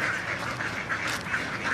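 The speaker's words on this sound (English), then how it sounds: "These big guys are Greylag Geese." A flock of greylag geese and mallard ducks honking and quacking together in a busy, continuous chorus, close by and fairly loud.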